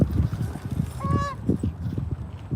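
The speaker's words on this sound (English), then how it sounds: "Even the goose over the head fly by and agree" A goose flying overhead gives one short honk above a steady rumbling, clopping background at an off-road trail rock crawling spot.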